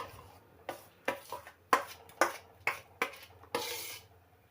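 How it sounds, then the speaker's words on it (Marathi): A spoon scrapes and knocks against a pot while semolina batter with sesame seeds is stirred, in about eight distinct, evenly spaced strokes, close and clear with no talk. "सारखं हलवीत राहायचं त्याच्यामध्ये गाठी होणार नाही याची काळजी घ्यायची"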